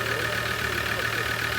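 A Ford TDCi diesel car engine idles steadily with an aftermarket K&N air filter fitted, a constant low hum and mid-range drone holding even throughout with no voices.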